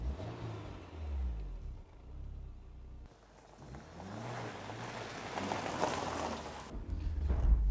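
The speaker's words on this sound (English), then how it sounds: "Drive it quite fast." A car accelerates hard, its engine revving through several rising sweeps as it changes gear, with a brief lull before climbing again under wind rush, moderately loud.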